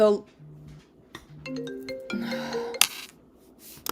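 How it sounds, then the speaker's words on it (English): A mobile phone ringtone rings during a devotional reading, its melodic electronic tones stepping through a short tune at moderate loudness, with a brief click near the end. "my phone just rang right in the middle of my"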